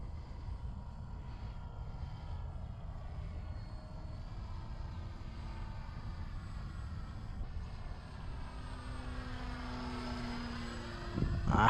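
A small radio-controlled model airplane flies in the distance outdoors, its faint motor droning steadily and shifting in pitch as it passes, over low wind rumble.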